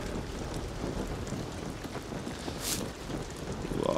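Rain in the video game Ghost of Tsushima: a steady, dense hiss of rainfall with gusty wind noise throughout, a brief sharp splash-like burst partway through, and a rising whoosh at the end.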